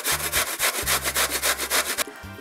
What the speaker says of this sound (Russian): Молодые кабачки натираю на крупной терке.